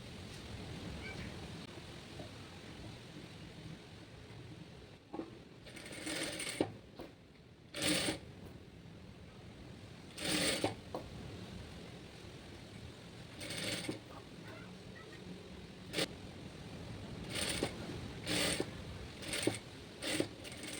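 A sewing machine stitches a sleeve in short separate bursts of rapid mechanical whirring. Quiet pauses with faint room noise sit between the bursts, and no one speaks.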